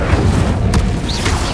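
A brief, loud fiery burst from the Incendio fire spell in Hogwarts Legacy on PS5, a rumbling whoosh with a crackling tail.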